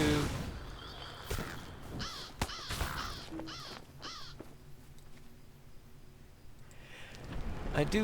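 Birds in a video game set in the Lone Lands: a series of harsh, crow-like caws repeating in irregular bursts, fairly close and clear over a quiet ambient background, with no speech.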